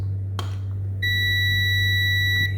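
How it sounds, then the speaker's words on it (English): A short click, then a multimeter's steady high-pitched continuity beep sounds for about a second and a half over a low hum, testing a thermal fuse from a heating fan. "So when you connect each probe, it will be beep."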